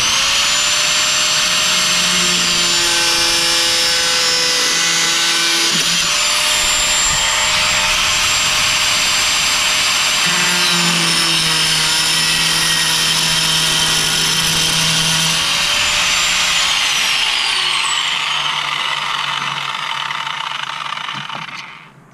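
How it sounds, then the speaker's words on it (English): Angle grinder cutting the top section out of a car panel for an A/C delete, a loud, continuous close-up high whine and grinding roar whose pitch shifts with load, then cutting off at the end. "I'm bringing the grinder in here. Just gonna cut out the top section of this"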